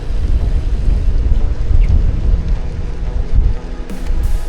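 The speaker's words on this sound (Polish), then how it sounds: "i wiatr jakby coraz mocniejszy" Steady, heavy wind rumbles and buffets the microphone during an autumn bike ride near Bydgoszcz, Poland, a continuous low roar with a few faint gusting shifts.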